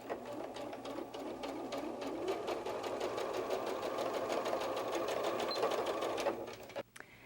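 A sewing machine runs steadily for about six seconds, stitching the cheek pieces of a fabric fox softie from neck to nose tip, its rapid even needle rhythm close and continuous before stopping abruptly.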